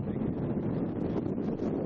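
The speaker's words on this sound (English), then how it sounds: "This is just to show the wind up here." Strong wind buffeting the microphone up high at Red Rock near Las Vegas, a constant loud roaring rush with no pauses.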